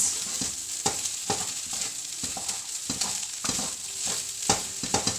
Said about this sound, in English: I'm just going to stir that in with my onions, garlic, chilli and